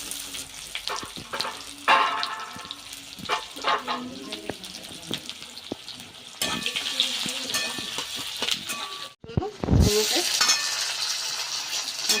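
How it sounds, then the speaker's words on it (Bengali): Chopped onion and bay leaf fry in hot oil with a constant close sizzle, broken by scraping stirs and clatter; near the end a short pause gives way to a louder, rushing hiss. "পেঁয়াজ আমার সুন্দর ভেজে লাল হয়ে গেছে"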